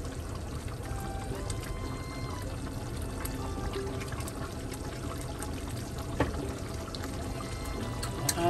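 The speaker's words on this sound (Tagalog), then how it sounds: "Lagyan pa natin ng ketchup." Ketchup poured into a pot of chicken caldereta, a steady soft liquid pour and trickle running close up for several seconds with a faint cooking hiss beneath, alone without speech.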